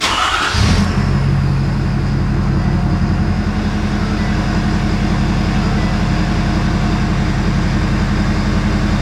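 A Ford 6.7 Powerstroke diesel truck engine cranks and fires, then settles into a loud, steady, rumbling idle that continues alone without any talk.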